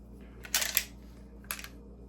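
A Remington 1187 semi-automatic shotgun's bolt is released from lock-back and slams home. Two quick metallic clacks sound close by in a quiet room, the first slightly longer than the second.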